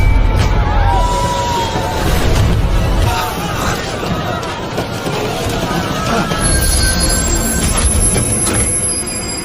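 A train running on rails, with heavy continuous low rumble and metallic wheel squeal, loud and close, with a faint babble of voices beneath it.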